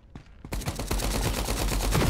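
Rapid bursts of blind-fire gunfire in the shooter game FragPunk, an assault rifle spraying loud, dense repeated shots after a brief quieter opening, close and without talk.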